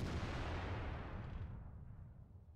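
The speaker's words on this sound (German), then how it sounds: "Jetzt kommt der Schuss." The tail of a Bat.-Châtillon 155 55 tank gun shot in World of Tanks rumbles and fades away, a deep booming decay that thins out over a couple of seconds.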